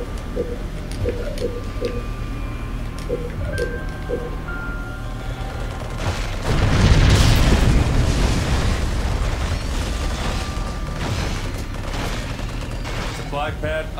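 A turret in the Halo Wars strategy game opens fire on a target, a dense rumbling burst of explosive blasts swelling midway over game music and beeps, with a voice speaking over the action.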